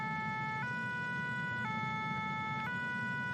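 A steady, tonal ambulance siren in a French Christian cartoon, holding high electronic notes that step cleanly in a regular cycle over a constant background hum, with no voices.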